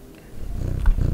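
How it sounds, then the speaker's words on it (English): A short low cat purr or growl from the video game OFF, rising after a quiet start and rumbling steadily for under a second. "Cat!"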